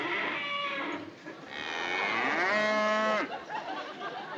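A cow on a 1960s TV sitcom set gives a long, loud, close moo that rises and wavers, followed by a softer tail. No voices are heard.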